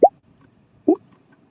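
Two short, crisp pop sound effects from an editing library play about a second apart, close and clean, with silence between them.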